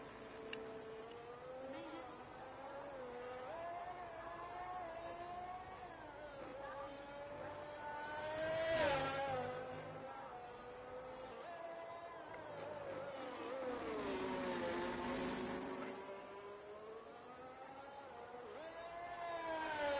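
A race car on fresh soft tyres lapping Portimao in a racing game, engine pitch rising and falling through gear changes as it passes, heard beneath commentator talk.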